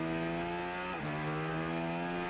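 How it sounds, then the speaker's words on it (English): A 2013 Ducati 1199 Panigale R on a racetrack holds a loud, close, high-revving engine note with a brief dip as it shifts gear, then climbs hard again. "The Ducati is very stable and hard on the brakes again, and it grunts out onto the pit straight very hard"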